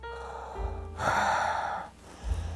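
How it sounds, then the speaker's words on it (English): Heavy, slow breaths come through a mask's muffled, resonant filter: a sharp inhale followed by a long hissing exhale, close to the microphone. "It's got a built-in menacing heavy breathing device."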